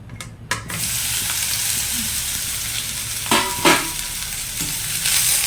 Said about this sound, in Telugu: మనం ముందుగా బీరకాయ ముక్కని చక్కగా నూనెలో వేయించుకోవాలి